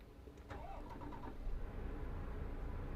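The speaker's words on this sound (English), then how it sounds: "So let's turn the old truck on." A heavy truck engine in Euro Truck Simulator 2 cranks and catches about half a second in, then settles into a steady, rumbling idle that holds at an even level to the end.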